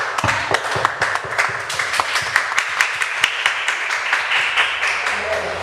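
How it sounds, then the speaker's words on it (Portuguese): A church congregation claps together for several seconds, a dense patter of hand claps at close range, with a few sharp individual claps standing out and some murmured voices mixed underneath. "Vamos aplaudir a palavra do Senhor."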